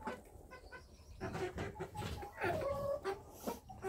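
A flock of farm hens, including New Hampshire, Australorp and mixed breeds, clucks and murmurs nearby in a busy, overlapping chorus, with a few louder calls rising above the rest.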